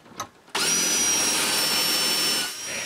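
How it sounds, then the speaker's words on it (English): A power drill bores shallow holes into wood for the bolts of new cottage shutters, a steady loud whining drone that starts abruptly after a brief knock and runs continuously, easing slightly near the end. "we put the first one where we want it to be and drill some shallow holes"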